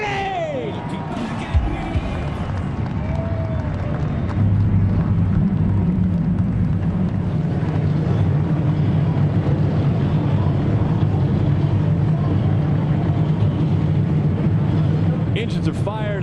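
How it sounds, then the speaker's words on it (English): Race truck engines roar before the start of the Toyota Tundra 200, a NASCAR truck race, with a dense, steady mechanical rumble building at about four seconds and holding loud throughout, mixed with crowd noise. "Engines are fired up."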